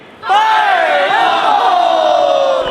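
A big crowd at a theme park industry convention cheers and roars in one loud, sustained burst right after a countdown reveal, with whoops riding on top for several seconds.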